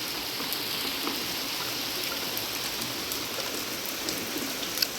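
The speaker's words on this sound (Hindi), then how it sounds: "देखो क्या कमाल बारिश हो रही है" Steady, even monsoon-style rainfall patters continuously on surfaces nearby along the Narmada River in India, with no voices and no break in the downpour.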